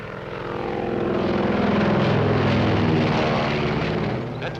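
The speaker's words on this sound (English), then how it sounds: "That's Marsden's plane." A propeller-driven airplane drones overhead in the 1944 harbor setting, its engine roar steady and loud throughout, swelling slightly at the middle and fading a little toward the end, with no voices.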